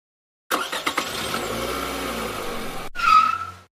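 A car engine roars to life and pulls away steadily, ending with a short squeal of tires.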